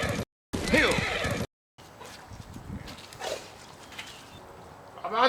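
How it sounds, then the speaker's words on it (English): A horse in the Ghost of Tsushima video game whinnies loudly nearby, then hooves clop along amid game ambience, ending with another rising neigh; a voice speaks briefly at the start. "You are a good horse, Cisco."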